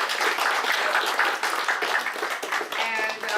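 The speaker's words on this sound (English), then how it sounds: "A round of applause for a fabulous" An audience at an academic talk on ASEAN applauds the speakers, a short burst of mixed clapping with voices murmuring through it.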